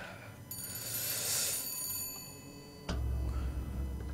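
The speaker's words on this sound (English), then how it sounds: "Answer the phone." A telephone rings in the video game Bioshock Infinite, a bright trilling bell sounding quietly over a low steady background hum, followed by a click and a louder low rumble.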